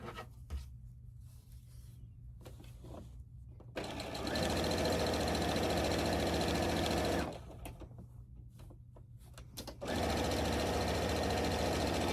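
Sewing machine stitching binding onto a quilt with a 3/8 inch seam allowance, two loud steady whirring runs separated by quieter pauses with faint handling noise.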